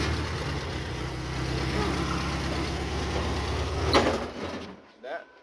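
A lowered VW Beetle engine idling loud and close with a steady low rumble, then surging and cutting off as the clutch is dumped, followed by a brief clunk.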